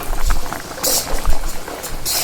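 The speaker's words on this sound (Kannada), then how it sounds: "ಹಿಂಗೆ ಕೊತ ಕೊತ ಕೊತ ಕೊತ ಅಂತ ಕುದ್ದ ಮೇಲೆ" Masala water for a pure-veg biryani boils vigorously over a high gas flame, bubbling loudly and unevenly up close with occasional louder splutters.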